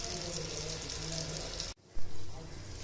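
Achu murukku, a rice flour snack, fries in hot oil with a steady hiss and crackle, briefly cut off and then sizzling again, while a person talks over it.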